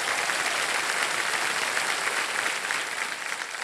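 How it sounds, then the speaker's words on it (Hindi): Studio audience at KBC Season 17 applauding to welcome a contestant's father, a dense, steady burst of loud clapping filling the whole clip with no break. "इनको ताली बजा करके इनका स्वागत किया जाए"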